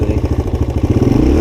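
A Suzuki DR-Z 125 pit bike engine revs hard in third gear during a wheelie attempt. The close, loud, rapid putter quickens toward the end.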